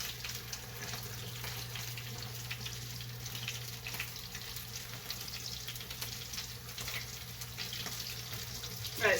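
German sour cream noodles frying in butter in a pan on a stovetop, a steady, soft crackling sizzle that runs continuously, with a faint clink near the end.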